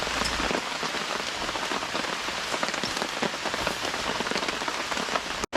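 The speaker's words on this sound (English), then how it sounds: "It's raining like crazy" Heavy rain drums on a camping tarp or gazebo, a dense, loud, continuous patter of drops close overhead with no voices.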